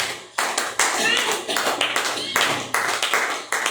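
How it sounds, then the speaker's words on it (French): A church congregation claps together at the close of a worship service, a dense, steady run of hand claps with rhythmic surges, loud and close, with voices mixed in among the clapping. "Applaudis pour Jésus"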